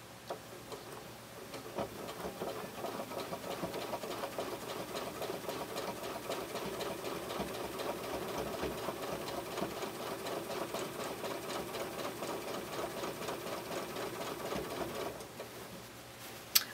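A sewing machine stitching in the ditch while machine quilting runs in one fast, even, ticking burst for about thirteen seconds, fairly quiet and close, then stops with a small click.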